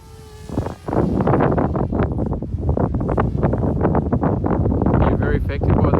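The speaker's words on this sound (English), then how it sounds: "You're very affected by the wind. Big gusty wind." Strong gusty wind buffets the microphone during an outdoor drone flight, a loud continuous rumble. A drone's high-pitched propeller whine sits over it and fades in and out.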